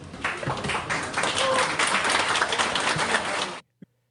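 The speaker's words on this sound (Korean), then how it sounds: "군수 발언에 박수갈채를 쏟아낸 170여 명의 이장들" Roughly 170 village heads clap together at a gathering, a dense burst of applause that swells for a few seconds and then stops abruptly, leaving one faint knock in the silence.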